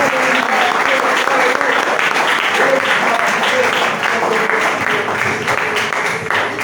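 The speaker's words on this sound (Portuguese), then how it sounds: "Aplauda o Senhor nesta noite, porque ele merece." A church congregation applauding during an evening service, steady dense clapping from many hands held at a constant level for several seconds, with some voices mixed into the crowd.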